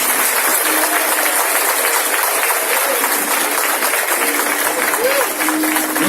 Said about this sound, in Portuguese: Você pode dar uma salva de palmas aí para os batizandos aí?